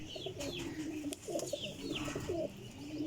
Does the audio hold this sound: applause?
no